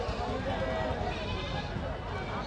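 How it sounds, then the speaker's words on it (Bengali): Goats, small and large, native and foreign breeds, bleat at a busy Kurbani livestock market in Kumarkhali, Kushtia, under continuous crowd chatter and nearby talk. "ছোট বড় নানা প্রকার ছাগল,"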